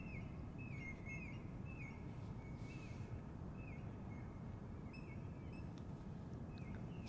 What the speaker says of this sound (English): You can hear the morning birds.